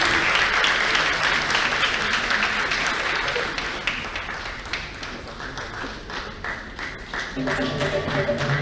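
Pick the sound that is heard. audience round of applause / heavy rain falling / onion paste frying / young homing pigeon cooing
audience round of applause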